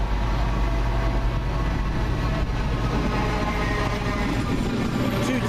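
A train, diesel unit 82228, rumbles steadily into a station on the 12:48 service to Plymouth, a loud continuous low engine drone with rail noise and no break.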